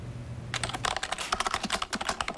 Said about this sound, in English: Her fingers fly across the keyboard.